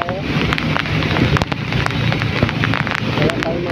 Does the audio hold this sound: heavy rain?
yes